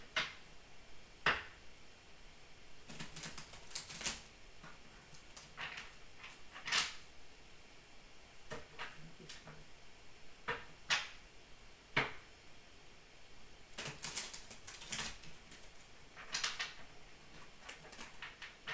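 Cards are shuffled in soft, irregular bursts of quick riffling and flicking, quiet and close, with short pauses between.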